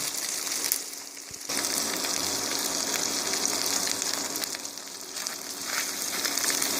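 Vegetables, carrot among them, frying in oil in a pan over a small flame give a steady, close sizzle with a soft crackle that runs without a break.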